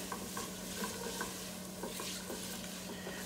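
Onions softening in a pot sizzle steadily while a spoon scrapes and stirs them in repeated soft strokes, fairly quiet and close, with no voices.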